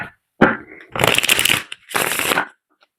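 Tarot cards are shuffled up close in three quick bursts of riffling and flapping, separated by short pauses, with no talking.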